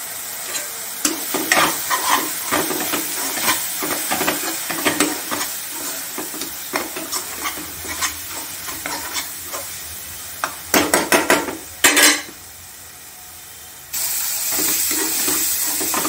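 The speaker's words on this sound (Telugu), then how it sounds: "చూడండి ఇలా వేగింది కదా" Chili powder and coriander powder frying and stirred in a pan for Andhra-style paneer curry, close scraping strokes over a soft sizzle with a few sharp bursts of hiss, then a lull before sizzling resumes.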